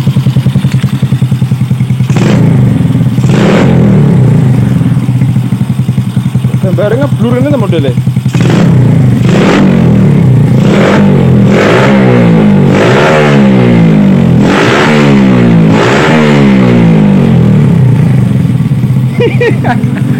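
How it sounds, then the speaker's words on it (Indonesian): A Yamaha Vega R motorcycle engine, hot and with a carburetor fault that makes it resist throttle, idles loudly up close, then revs repeatedly in several rising bursts, with a person speaking briefly over it. "karburator itu nggak mau digas saat mesin panas"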